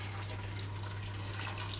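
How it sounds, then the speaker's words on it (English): Boiling water pours over chopped potatoes in a kitchen for cottage pie, a faint, steady rushing stream running throughout over a low background hum. "And I'm putting boiling water over them"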